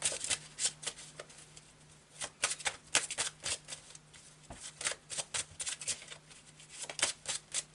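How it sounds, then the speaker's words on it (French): Marseille tarot cards are shuffled and drawn by hand, giving a long run of close, crisp riffling flicks and soft slaps in quick, irregular bursts, with brief pauses between handfuls and no talking. "je vais prendre quelques cartes du Marseille pour en voir un petit peu mieux."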